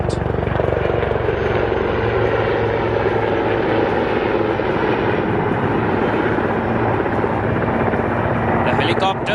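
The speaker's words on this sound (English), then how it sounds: "notice the helicopter as the pilot, using his superior skills, is making a deliberate approach to establish a pinpoint hover on the" Military helicopter making a deliberate approach and settling into a low pinpoint hover over a landing spot, its rotor and engine a loud, steady continuous roar that fills the whole clip with no break.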